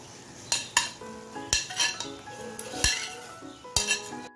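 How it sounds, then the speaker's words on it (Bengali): Grated potato and egg are worked into a spice masala in a pan, with sharp spatula clinks and scrapes against the metal over a faint, low sizzle. "আলু আর ডিম আমি মশলার সঙ্গে ভালো করে মিশিয়ে নিচ্ছি"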